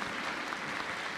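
A church congregation claps together in dense, continuous applause that stays loud and even through the short moment.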